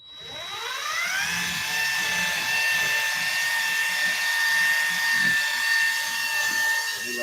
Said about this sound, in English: I'm about to go sand this headlight here real quick.